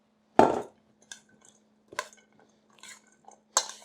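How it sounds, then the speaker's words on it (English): Brussels sprout salad tossed with dressing in a bowl, a handful of separate clinking, scraping knocks of utensils against the dish, close and spaced apart with quiet gaps between. "we're going to toss this beautiful dressing right in there"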